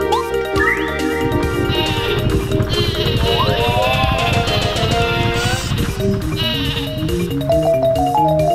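Sheep bleat from the Sleepy Sheep item in the video game Paper Mario, several wavering calls mixed with clip-clopping hoof sounds and bright game music throughout.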